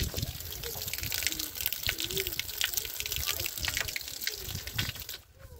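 Water from a solar-powered pump pours steadily into a 2,500-litre storage tank, giving a continuous splashing, gurgling flow at close range that eases off slightly at the very end.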